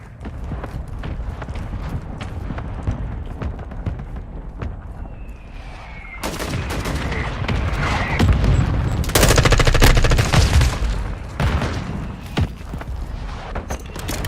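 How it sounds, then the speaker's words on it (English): Gunfire and mortar strikes in Insurgency, a combat video game, crackle through a long stretch. Bursts of rapid automatic fire build into loud, dense volleys with sharp blasts. Distant shots pop in the quieter opening seconds. "Hostile mortar strike near your position"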